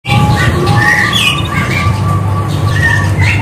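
Caged canaries at a bird shop chirp and squawk in quick, bright, overlapping bursts over a steady low background hum. A faint voice can be heard.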